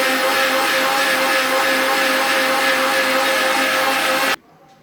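Mixer grinder blending mint lime juice with water, a loud continuous whirring roar at steady pitch that cuts off abruptly near the end, leaving quiet.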